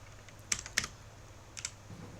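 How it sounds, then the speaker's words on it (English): Keys clatter on a computer keyboard in a few short, sparse bursts of clicks, close and fairly quiet over a low room hum, with nobody speaking. "And we'll just start typing here."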